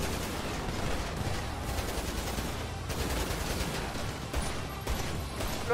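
Sustained heavy gunfire in a GTA V roleplay shootout between police and a mafia crew, with rapid overlapping bursts and automatic fire running continuously and loudly.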